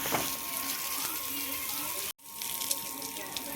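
Water splashes and gushes onto hot ground in a steady wash, cutting out briefly midway before resuming, with a faint voice partly audible underneath.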